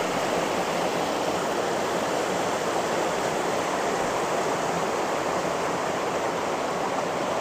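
Water pours from the final outlet of a fast-flowing fish pond system back into a river, a loud, steady, broadband rushing roar that continues unbroken and close by, with no voices.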